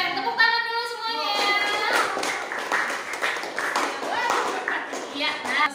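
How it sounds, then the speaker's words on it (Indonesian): A classroom of children clapping hands together at the end of a lesson, a burst of many small hands under a teacher's voice and kids chattering, moderately loud and close. "Tepuk tangan dulu semuanya."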